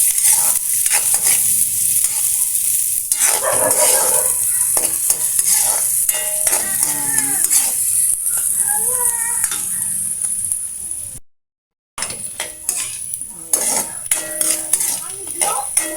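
Garlic and onion sauté in a cooking pot, with a bright continuous sizzle under repeated clanks and scrapes of a metal spoon against the pot, loud and close, briefly cutting out near the end.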